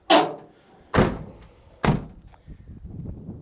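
Doors on a lifted Ford Econoline diesel camper van slam shut in three loud, close thuds spaced about a second apart, followed by softer faint knocks and rattling.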